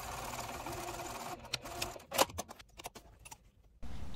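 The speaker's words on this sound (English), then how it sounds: "gonna take them to the sewing machine and just stitch along the top and bottom of this side gusset here" A sewing machine stitches along the top and bottom of a camera bag's side gusset, running as a steady close whir, then stopping into a string of clattering clicks and taps before resuming briefly.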